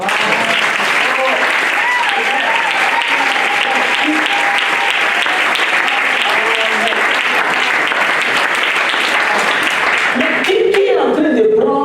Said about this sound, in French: Est-ce qu'on peut applaudir la parole?